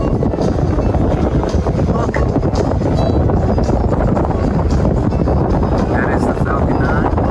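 Strong wind buffets an outdoor microphone in a steady, loud low roar that lasts throughout, with faint voices mixed in underneath.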